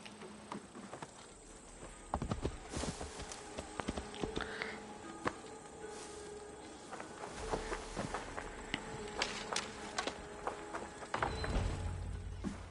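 Horse hooves clip-clop in a Viking-themed PS5 video game, a run of light, moderately close hoof taps over a busy game soundscape, with no talk.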